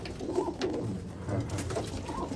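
Abluk pigeons coo in a home loft, several soft throaty phrases overlapping close by amid faint background clatter.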